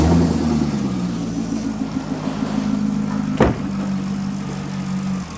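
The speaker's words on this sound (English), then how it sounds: "I'm gonna start the engine" A Chevrolet Corvette engine idles steadily at a low, even pitch, with one brief sharp knock partway through and no voices.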